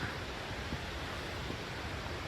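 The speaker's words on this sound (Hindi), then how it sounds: "झरने की आवाज़ आ रही है" A waterfall heard from deep, dense forest along the Rudranath trek gives a steady, faint, even rush with no pauses and no talking.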